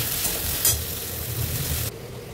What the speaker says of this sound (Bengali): ঝিঙেটা, আলুটা, কাঁচকলাটা সুন্দর করে ফ্রাই করে নেবো